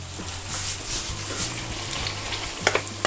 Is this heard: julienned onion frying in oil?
yes